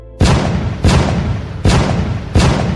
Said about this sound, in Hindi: नेपथ्य से तोपों की गड़गड़ाहट और अस्त्रों की झनकार सुनाई दे रही है।